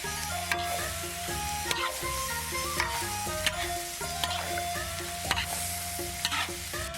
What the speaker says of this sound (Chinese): 把鸡杂下上，翻炒均匀